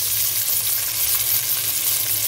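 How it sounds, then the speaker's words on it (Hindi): Pieces of meat frying with onions in a pot for Sindhi pulao, a steady, close, hissing sizzle that keeps an even level throughout with no talking. "प्याज के साथ ही हम गोश्त को फ्राई करेंगे"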